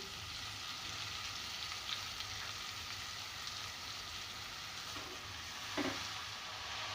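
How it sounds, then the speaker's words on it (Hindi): Spinach tipped into a pan of sautéed masala on a low flame for aloo palak, giving a steady quiet sizzle with a few soft stirring scrapes near the end. "अब मैं इसमें तमाम पालक डाल दूँगी"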